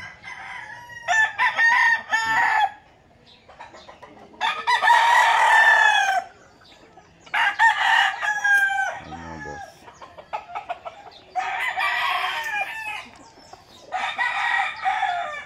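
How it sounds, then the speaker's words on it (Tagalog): Several chickens cluck and a rooster crows in bursts, fairly close, with short quiet gaps between the calls and no talking. "Magkakaibang manok ng binitawan ko dyan."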